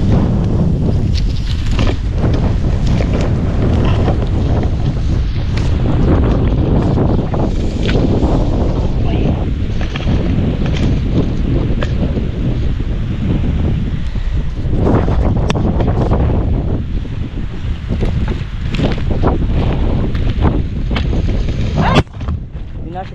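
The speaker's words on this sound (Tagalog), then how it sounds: "lakas ng hangin, tutumba." Heavy wind batters the microphone outdoors on open land, a loud rumbling, gusting roar with irregular thumping bursts that continues without a break.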